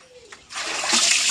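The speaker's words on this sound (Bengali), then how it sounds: "এই আলুগুলো একটু ধুয়ে ফেলো তো।" Potatoes being washed in water: a short quiet moment, then a loud, close splash and sloshing of water that continues to the end.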